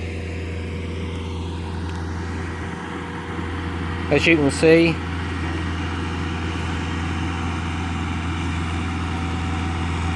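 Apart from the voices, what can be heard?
tractor crop sprayer in field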